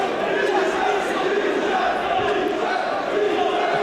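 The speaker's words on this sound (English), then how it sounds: "You can hear the crowd." A large crowd at a boxing match in Oldham roars and shouts continuously, a loud dense wall of cheering with voices mixed throughout.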